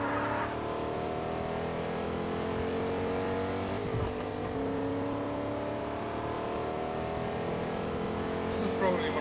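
A car driving across hills and grassy terrain in Fortnite, with a continuous steady engine drone, a brief bump and clatter near the middle, and a voice talking over it.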